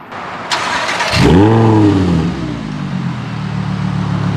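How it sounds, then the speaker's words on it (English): An Audi R8's naturally aspirated V10 fires up with a starter whir, then a loud rising bark that flares and settles into a deep, steady idle rumble, close and alone. "Naturally aspirated V10s."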